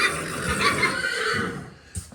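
A horse gives one long, wavering neigh that fades over about a second and a half, loud and close, and a short squeal-like burst follows.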